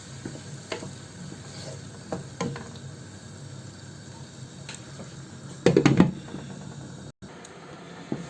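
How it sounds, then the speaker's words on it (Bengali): Steady low sizzling of beef braising in a pan with a little water, with occasional utensil scrapes and a brief louder stirring burst near the end. "মাংসটাকে কষিয়ে নেব।"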